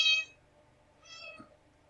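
A pet cat meows twice, a loud cry at the start and a softer one about a second later, close by and with no talk over it.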